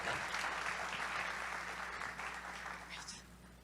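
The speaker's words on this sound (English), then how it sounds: "A little applause, ladies and gentlemen" A conference audience gives a brief round of applause, steady and moderately loud, fading slightly toward the end.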